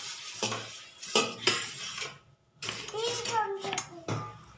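A knife chops an onion into pieces in a home kitchen, giving a few sharp, irregular knocks on a board with short pauses, close by. A voice is briefly heard between the cuts.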